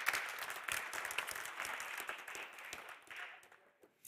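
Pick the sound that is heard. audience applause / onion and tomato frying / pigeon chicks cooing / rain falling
audience applause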